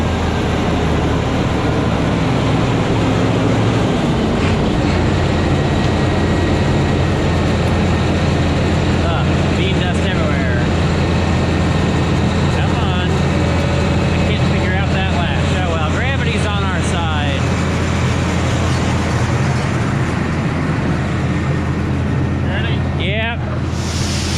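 A New Holland TR86 combine harvesting beans gives off a steady, loud engine drone with a low rumble throughout, heard from close range, and people talk over it now and then.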